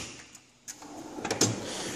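A drawer slides open on a Harbor Freight US General 72-inch steel tool box in a home shop, a short rolling scrape ending in a metallic clunk, close and moderately loud.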